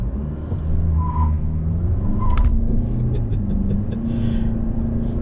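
A 2020 Toyota Avalon front-wheel-drive sedan with 215 horsepower rumbles loudly while brake torquing, engine droning low with a couple of brief tire chirps from the front wheels.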